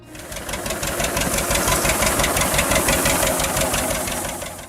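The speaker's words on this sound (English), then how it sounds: "The slow, deep rhythm of that motor became one of the most familiar sounds in American farming." A classic John Deere Model A tractor engine runs steadily, its slow, deep, even thumping beat close and loud without a break, with no voices.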